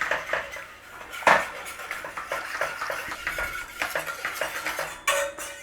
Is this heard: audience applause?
no